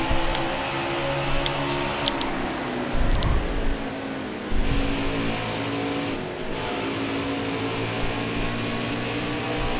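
A race car engine in a racing video game drones with a steady, buzzing tone, then surges and rises in pitch as cars pass close by in short bursts.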